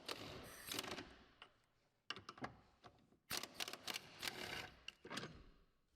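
A 16mm socket wrench loosens the motor mount bracket on a VW Golf 5 during a timing belt job, giving bursts of close metallic clicking and ratcheting in several separate runs with short quiet gaps.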